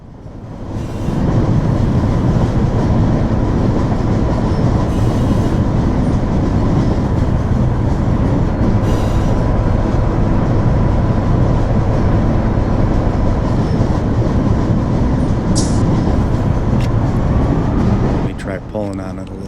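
A loaded 10,000-ton freight train behind a single MP15 locomotive on Cajon Pass rumbles heavily and steadily on the rails, loud and close, with a metallic clatter and a brief high squeal of the wheels near the end. Someone talks over it.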